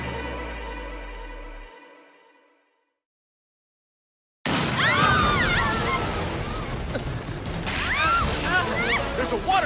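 Anime scene: a rushing river heading toward a waterfall breaks in loudly after a fading musical tone and a short silence, a roaring surge of water with splashing and whooshing layered over it.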